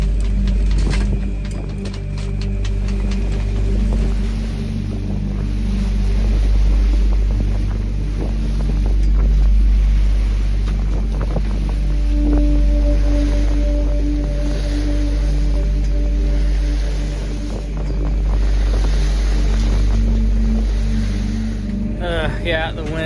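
A sailboat motors straight into a headwind on a passage from Washington to California, arriving at San Francisco; a steady low engine drone and hull rumble run throughout under constant buffeting wind noise on the microphone.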